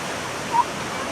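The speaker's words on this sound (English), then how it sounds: "we're seeing a very beautiful river, and we're going to see a waterfalls" A beautiful river and waterfall rush steadily in a constant, even broadband roar of flowing water, with no clear voices over it.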